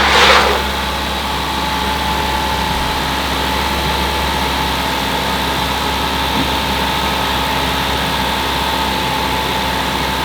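A compact car runs at a fast idle of about 2,000 RPM with the air conditioning on maximum cold, giving a steady, unbroken low engine hum and blower drone after a short burst of noise at the start.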